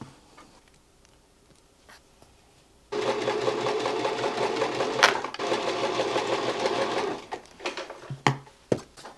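A sewing machine stitches rows of patchwork squares together, a steady close whir running for about five seconds, framed by quiet handling clicks and taps before and after.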